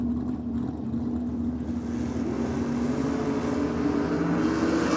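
A Holden six-cylinder drag racing car at a NSW championship drag meet, giving a sustained high-revving engine drone with a steady tonal hum that rises slightly and grows brighter, continuous and loud.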